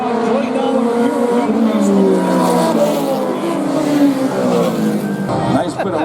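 Race cars circling a clay oval track at a racing event, a continuous engine drone with a slowly falling pitch as cars pass, under crowd noise and nearby voices.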